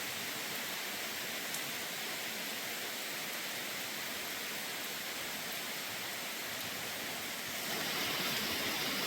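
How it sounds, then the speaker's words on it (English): Steady rain falling outdoors along the Appalachian Trail near Bear Mountain, a dense even hiss that stays constant throughout and swells slightly louder near the end, with no voices. "It's raining."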